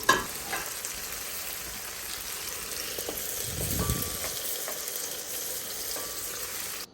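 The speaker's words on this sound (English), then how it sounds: "go ahead and add your garlic and allow that to fry in the oil" Garlic frying in oil for an arrabbiata sauce, a steady close sizzle with a brief stir and a louder crackling burst partway through, no voices.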